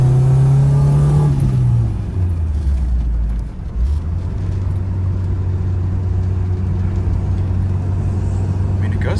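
A 1986 Dodge Daytona Turbo Z with torque steer and a misaligned front end cruises down the road. A loud, steady engine drone drops in pitch as it shifts, with road rumble underneath.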